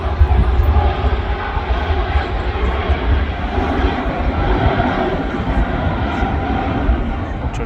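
An Aegean airliner takes off from the runway at Manchester Airport, its jet engines giving a loud, steady broadband roar that holds throughout, heard from the runway visitor park with a voice faintly underneath.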